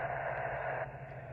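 Steady hiss and static from a Yaesu FT-991A amateur radio transceiver, a continuous broadband rush that drops slightly in level partway through, with no talk.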